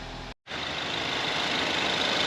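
A Ford 2.3L EcoBoost engine, just back together after a head gasket job, fires up after a long crank and settles into a steady, loud idle that runs on without pause after a brief gap of silence.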